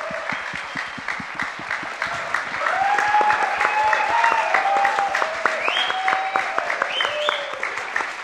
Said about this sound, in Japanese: Come on, let's give it up for this.